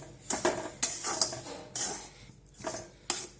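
A metal spoon clanks and scrapes in a flat pan as dry sugar is stirred over a medium gas flame for chikki, with sharp irregular knocks separated by brief quiet gaps, close and alone.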